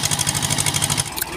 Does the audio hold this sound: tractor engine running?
yes